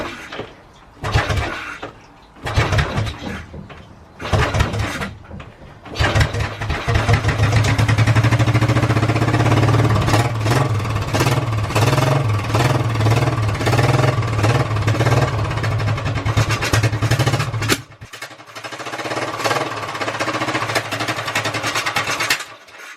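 A Royal Enfield Classic Bullet fitted with a Mikuni VM32 carburettor, just cleaned and probably on old fuel, is cranked with a few short bursts, then catches and runs loudly with a rough, uneven beat for about twelve seconds before cutting out.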